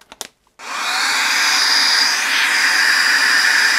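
Saker handheld mini cordless car vacuum cleaner blowing air through its narrow inflating nozzle: a few clicks, then a steady loud whirring hiss starts and holds, close up with no talk.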